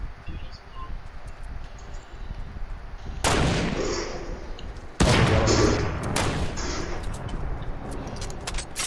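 Gunfire in the Fortnite video game, with sharp bursts of shots breaking in abruptly and continuing in irregular volleys over background game noise.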